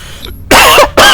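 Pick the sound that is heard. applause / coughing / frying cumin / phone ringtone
coughing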